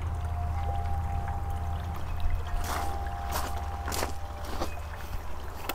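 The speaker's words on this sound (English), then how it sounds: "I believe another name for this is an endless water fountain. It just has a container under the ground" Water pouring steadily from a DIY endless fountain fed by a submersible pump in a container buried under a patio garden bed, a continuous close splash with low hum beneath.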